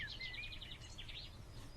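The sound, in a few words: birds tweeting outdoors in nature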